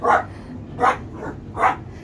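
Three sharp dog barks spaced evenly about a second apart, close by and fairly loud, over a low background hum.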